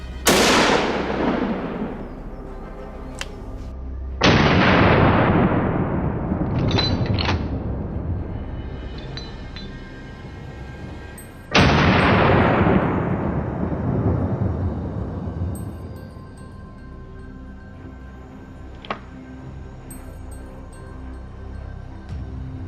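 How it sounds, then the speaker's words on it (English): Three loud, close rifle gunshots boom during a wild boar hunt on French farmland, each followed by a long rolling echo, with faint clicks in between. "The gunshot rang out, the boar was hit and fell."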